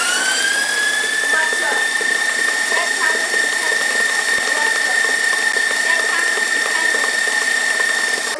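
An electric stand mixer runs at top speed kneading cake dough, giving a loud, steady mechanical whine with a gear-like rattle that holds without a break.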